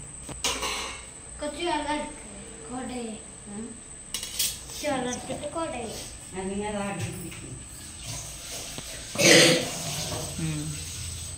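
People talk over faint clattering, then one sharp, harsh cough bursts out near the end.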